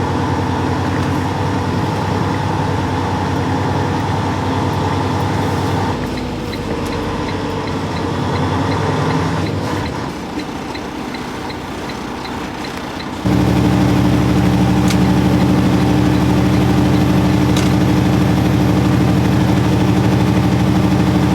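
A truck engine idles in a steady low rumble, dipping quieter midway before returning louder and fuller, with a couple of faint clicks near the end.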